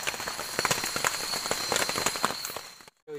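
Rain falling on a forest campsite at night, dense crackling patter of drops hitting nearby surfaces, close and steady before cutting out abruptly near the end.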